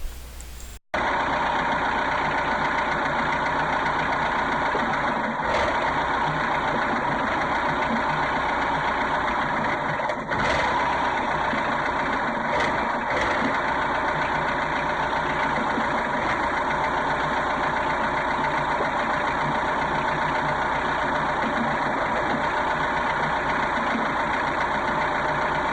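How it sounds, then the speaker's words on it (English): A Mercruiser boat engine with a GM EST distributor idles steadily for a long stretch, close and loud, its rough rhythm broken now and then by brief stumbles and missed beats. "if you watch the rhythm, it does miss beats"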